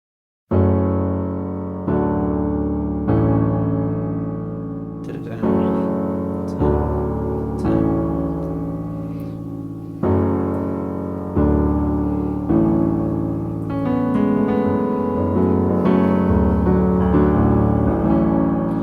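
Piano chords played alone, a repeating progression of sustained, ringing chords struck one after another at a relaxed pace.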